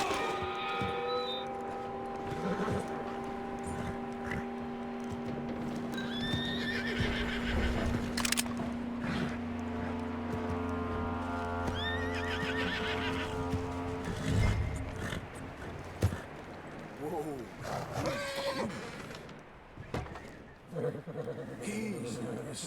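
In Red Dead Redemption 2, a horse gives several loud whinnies and snorts, with clopping hooves and other game noises around them; a voice speaks briefly in between.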